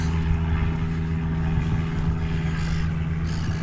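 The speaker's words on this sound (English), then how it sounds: "I'm just seeing an aeroplane now taking off from the airfield" A small aeroplane taking off from the Lee-on-the-Solent airfield gives a steady propeller engine drone with a firm low hum, holding at a moderate level throughout, with no one speaking.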